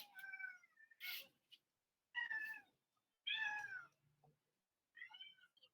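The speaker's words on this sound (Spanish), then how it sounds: "Ahí escuchan a mi gato." A house cat meows several times in a quiet room, four or five separate drawn-out calls spaced a second or so apart, fairly close and clear with no other sound between them.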